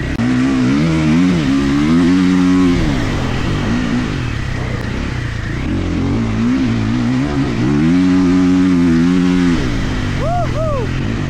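A Triumph off-road motorcycle roars close by, its engine rising and falling through repeated revving surges as it accelerates over dirt, with a rider's voice mixed in.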